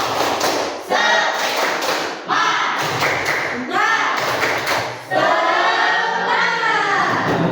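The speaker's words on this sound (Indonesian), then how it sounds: "Tepuk semangat." A class performs the rhythmic 'tepuk semangat' cheer clap in a lesson, with bursts of patterned clapping and thumps alternating with loud group chanting voices, all close and energetic.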